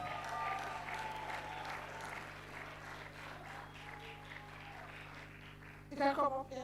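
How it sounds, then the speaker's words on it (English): An audience applauds at a class of 2025 graduation ceremony, a steady, fairly faint patter of many hands under a speaking voice, which grows louder near the end. "Let's give her a round of applause."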